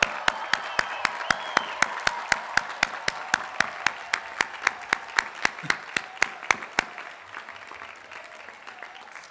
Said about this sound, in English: join me in applauding them for all that they have done for you